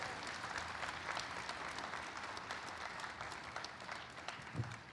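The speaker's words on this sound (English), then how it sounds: "Big round of applause for all of our speakers today." Faint, steady audience applause for speakers at a veterans' event, a dense wash of clapping heard from a distance with no break.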